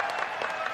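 Audience at a BlizzCon panel clapping in a dense, steady round of applause, close and continuous, briefly filling the room.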